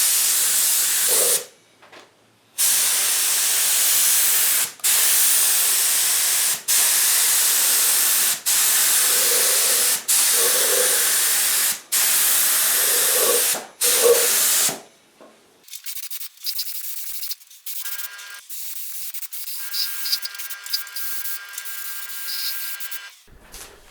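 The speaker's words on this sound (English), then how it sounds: "So I'm going to spray this all with a gloss for the time being" Gloss lacquer is sprayed onto a guitar body in a series of loud, close hissing bursts of a few seconds each, separated by brief pauses. Quieter, irregular rustling and handling noises follow.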